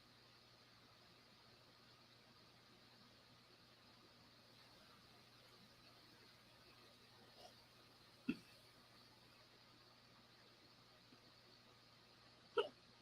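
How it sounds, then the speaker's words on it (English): A person hiccups during a live evening stream, two sharp isolated hiccups standing out against a quiet room hiss, with a fainter one earlier. "I got the hiccups now."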